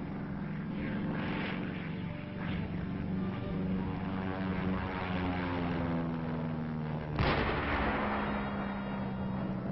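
Artillery fire from a Korean War film: a dense, continuous rumble of guns, with a sharp, loud blast near the end and no voices.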